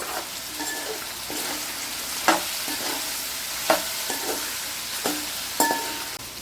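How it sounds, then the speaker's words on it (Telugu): Jackfruit pieces and ginger-garlic paste frying in hot oil for a jackfruit biryani, giving a continuous close sizzle with repeated sharp clinks and scrapes of a spoon against the pan. "ఇప్పుడు అల్లం ఎల్లిగడ్డ పేస్ట్ పచ్చివాసన పోయేంత వరకు ఫ్రై చేసుకుందాము"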